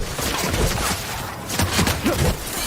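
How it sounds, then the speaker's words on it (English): Gunfire rattles in The Outer Worlds as dense, close bursts of rapid shots come in waves, loud and continuous without a pause. "Returning fire!"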